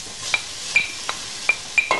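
Chopped onion fries in heated oil in a separate pot for an Imotski-style collard greens dish: a soft, steady sizzle broken by about six sharp stirring clinks against the pan, fairly close, with no talking.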